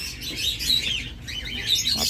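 Caged pet birds chirp in quick, bright overlapping bursts at close range, their twittering continuous through the short stretch with no talk.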